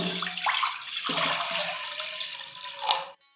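Water poured into a cooking pot while preparing a Bengali steamed mustard egg curry, a steady close splashing pour with a brief bright surge near the end before it stops.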